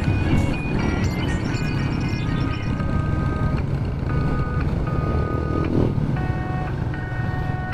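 Road traffic in Maragondon, Cavite, heard from inside a vehicle: a steady loud low engine and road rumble under a string of repeated electronic beeps and tones, with no talking.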